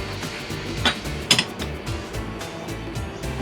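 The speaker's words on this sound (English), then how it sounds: "put the lock into position, then you can just tighten that up" Tightening the guard lock on a Makita DGA505 5-inch brushless angle grinder, small metallic clicks and ratchety creaks with two sharper clacks, close-up over a steady background hum.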